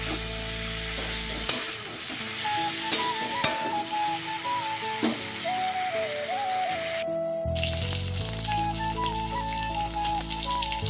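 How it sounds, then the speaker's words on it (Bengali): Hyacinth beans, spring onion stalks, potato and peas fry together in a pan with a constant crackling sizzle and stirring clicks, while a faint melodic tone drifts in the background. "সব সবজি দিয়ে একটা ভাজা করছি। সিম, পেঁয়াজ কলি, আলু, মটরশুঁটি দিয়ে ভাজা।"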